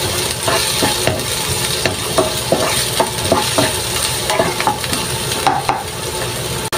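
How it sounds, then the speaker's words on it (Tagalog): Garlic and onion sautéing in a pan, a steady loud sizzle with rhythmic utensil scrapes and taps from stirring throughout, no voices. "Tapos susunod natin yung ating sibuyas. Yan, haluin lang natin mga kalakay."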